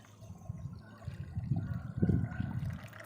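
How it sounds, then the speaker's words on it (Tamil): Horse gram cooking water poured into rasam in a home kitchen, a soft low splashing trickle that swells midway and tapers off, close and fairly quiet, with no talking. "அதில் அந்த கொள்ளு தண்ணியை இருத்து ஊற்றிடலாம்"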